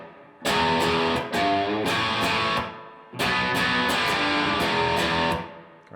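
Distorted electric guitar plays a riff, two loud chugging phrases of chords separated by a brief gap, close and alone.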